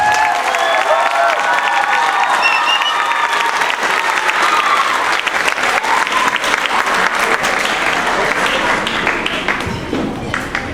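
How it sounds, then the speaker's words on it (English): A large audience at an elementary school spring concert claps and cheers for first-time band students, a dense, steady wave of applause that fades slightly at the end. "one more round of applause for our first-time band students."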